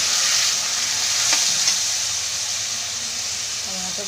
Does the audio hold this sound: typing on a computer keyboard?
no